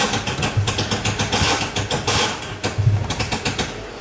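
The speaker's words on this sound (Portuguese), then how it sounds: "Vou dar outra partida, vamos ver se liga" An old Chevrolet Chevette engine cranks and runs with a rough, rhythmic chugging pulse, steady and close, sputtering slightly as it idles; no talking.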